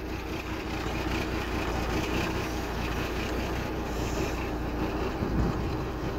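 A 1988 Kenworth truck's Cat 3406B diesel engine turns over and runs after a month of sitting, a loud, steady, rumbling drone close by with no talking.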